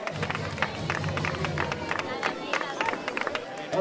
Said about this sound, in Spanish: Fuerte aplauso para los corredores que van terminando su carrera.